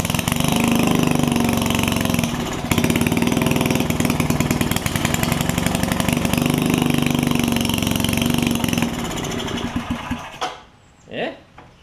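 An old, roughly fifty-year-old Wizard tiller engine with a bad ignition coil runs loudly and close for about ten seconds, its rapid chugging firing sometimes uneven, then sputters out and dies, leaving quiet with a voice speaking.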